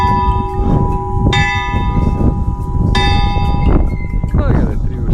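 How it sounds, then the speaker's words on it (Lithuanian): A church bell strikes three times in a town, each ringing stroke leaving a long humming tone, while people talk steadily underneath. "Varpo dūžiai, čia kiekvienas varpo dūžis saugo miestą."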